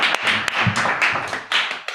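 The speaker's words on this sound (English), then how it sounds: "they do deserve another round of applause for a job well done" An audience at an event on partnerships for resilience and adaptation applauds, with dense, close clapping that comes in uneven bursts and dies down toward the end.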